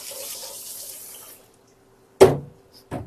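Running water flows steadily from a tap into a pot of rinsed rice for over a second, then stops; a couple of short knocks and clatters follow.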